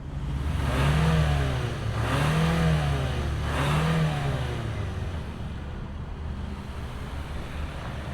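A 2025 Hyundai Santa Cruz XRT pickup engine fires up and revs, with a steady, fairly loud drone rising in a few swells over the first four seconds before settling into an even idle hum; no one speaks.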